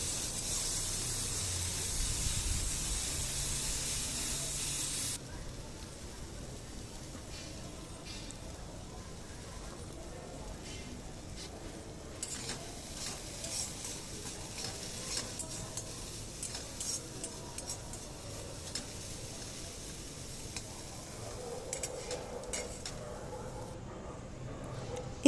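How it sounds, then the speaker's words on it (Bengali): Finely diced potatoes frying in white oil with a little salt and turmeric, a steady soft sizzle and hiss throughout, louder and brighter at the start before settling into a quieter crackle with occasional stirring. "সেগুলো আমি হালকা একটু নুন আর হলুদ দিয়ে ভেজে নিচ্ছি।"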